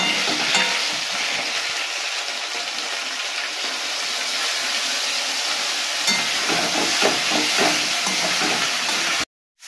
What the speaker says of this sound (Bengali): এখন আলুটা ভালোভাবে মশলা দিয়ে কষানো হয়ে গেছে